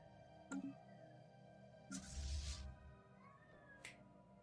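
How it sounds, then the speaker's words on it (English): A house cat meows for its dinner, with a few short, moderately loud calls rising above a quiet background hum. "That's my cat telling me that it's dinner time."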